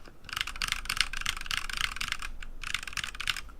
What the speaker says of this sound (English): this is what a Neo Ergo sounds like